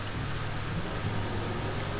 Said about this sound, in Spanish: ¡Esta lluvia parece ácido!